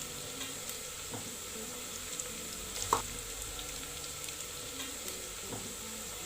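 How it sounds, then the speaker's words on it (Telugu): A steady, quiet sizzle comes from tomato pieces frying in a pan for a cowpea palav, with occasional faint stirring clicks and one small knock. "బాగా వేగనివ్వాలి."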